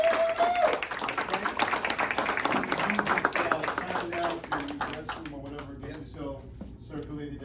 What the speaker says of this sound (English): So let's clap it up for Mama Nadi and Papa.